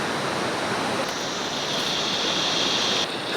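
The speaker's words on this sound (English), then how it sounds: "now I've hit the main creek down there" Rushing water of a creek in the Australian bush near Coffs Harbour and Bellingen, a loud, close, continuous hiss and roar of flowing water with no talking.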